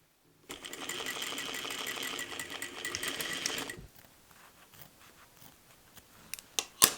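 Sewing machine stitching bias tape onto a tiered dress made from a bedsheet, a steady fast whirring run of about three seconds, close by, then stopping to quiet handling noises and a couple of small clicks.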